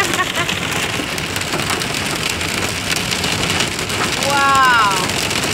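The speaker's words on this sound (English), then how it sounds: "I've never seen hail this bad." Dense hard hail pounds steadily on a car's roof and windshield, a loud continuous clatter with a brief chirp near the end.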